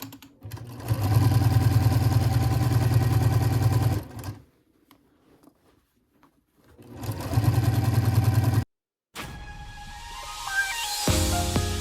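A sewing machine stitches binding onto a fabric pillow cover about a quarter inch from the edge, in two loud, even runs of rapid mechanical whirring separated by a short pause, then some lighter clicking and handling noises.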